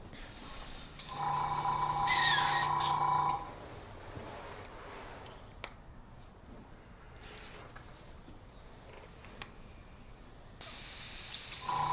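Airbrush spraying orange paint onto a Star Wars Legion tank miniature: a loud, steady hiss with a tonal whine for about two seconds, then quieter intermittent spray bursts and small mechanical clicks, and a final burst at the end.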